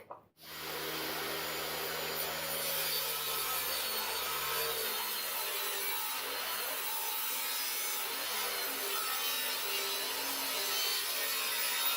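A saw cuts through scrap wood as it is pushed along with a push stick, a steady close rasping, buzzing cut that starts abruptly and continues without pause.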